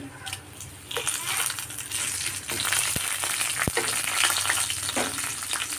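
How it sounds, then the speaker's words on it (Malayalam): Dried red chilies dropped into hot oil with urad dal, a dense close sizzle that swells as they go in, with a couple of sharp clinks from the pan. "ഇനി ഇതിലേക്ക് ഉണക്കമുളകാണ് കേട്ടോ ഞാൻ ഇട്ട് കൊടുക്കുന്നത്"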